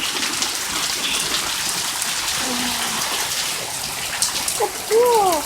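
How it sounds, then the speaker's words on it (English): Steady rain falls outdoors as a continuous hiss of drops, with bird chirps toward the end. "Can't believe it's finally raining."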